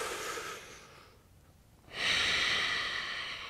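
Heavy breathing while holding a plank during an at-home upper-body strength workout, a long hissing exhale, a quiet pause, then a louder sustained breath, close and alone.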